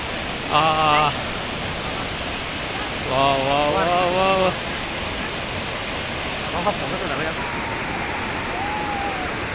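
Tarabu waterfall roaring with spray, a steady broadband rush of falling water filling the whole clip, with a voice speaking briefly over it near the start and middle.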